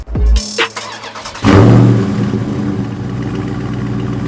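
A Dodge Charger Scat Pack engine cranks and catches, then settles into a deep, loud rumbling idle with a throaty burble from its 4-inch active exhaust.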